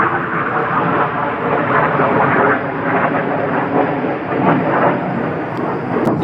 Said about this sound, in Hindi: ये जेट बहुत ख़तरनाक उड़ रहे हैं।